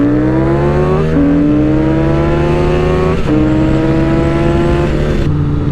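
Suzuki GSX-S750 and Yamaha FZ-07 motorcycles race side by side, loud close engines climbing in pitch through repeated gear shifts, a steady roaring whine with drops at each shift.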